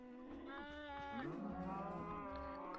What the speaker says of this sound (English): God, this cows are blooming loud.